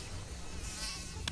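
A mosquito in a Mortein repellent advert buzzes with a thin, high, steady whine close by, alone and without talk, over a brief moment.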